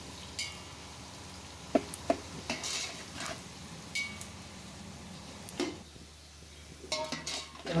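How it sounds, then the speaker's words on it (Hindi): Onions frying in hot oil in a pot for chicken and vegetable rice, a faint steady sizzle under sharp clinks and scrapes of a spoon stirring against the metal pot, close by and without talk. "तो अब मैं डालूंगी प्याज। तो प्याज को करेंगे हम गोल्डन ब्राउन।"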